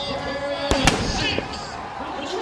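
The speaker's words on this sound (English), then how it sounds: "Now they can fire the cannon." A cannon fires at a Central Michigan college football stadium after a touchdown against Ohio, giving two sharp, loud booms in quick succession over a steady crowd roar and an announcer's voice.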